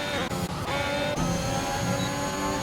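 Racing car engines, a Ferrari among them, in a British round of a racing video game: continuous close engine whine and revving, with brief dips where the pitch shifts, and no talking.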